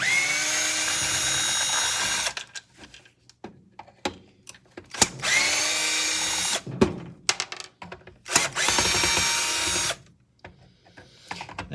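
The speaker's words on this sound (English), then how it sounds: "Now it's just a matter of pulling all these little screws out." A power drill backs small screws out of an old miter saw being scrapped, in three loud bursts of whirring separated by quieter clicks and handling clatter.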